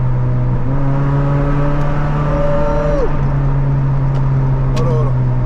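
Car engine revving inside a tunnel, a steady loud drone with rising and falling rev sweeps echoing off the walls, heard from inside the moving car.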